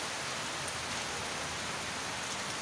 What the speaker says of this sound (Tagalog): Maaga kasi umulan ngayon eh.